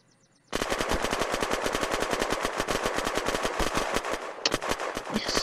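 A long burst of rapid automatic gunfire in the shooter game Unturned, dozens of evenly spaced loud shots after a brief quiet start, with a few extra impacts near the end.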